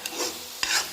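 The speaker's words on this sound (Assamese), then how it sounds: "ভালদৰে আকৌ অকণমান ভাজি ল'ম" Jackfruit seed curry masala fries in a pan over low heat, a soft continuous sizzle broken by two quick stirring scrapes of a spoon, close and fairly quiet with no talking.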